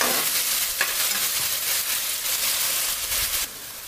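Onion sautéing in a pan with asafoetida, a close, steady sizzle with a light stir or two, dropping slightly in the last half second.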